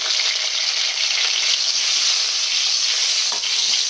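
Okra pieces frying in white oil with salt, giving a loud, steady, dense sizzle that continues without a break, with no voices.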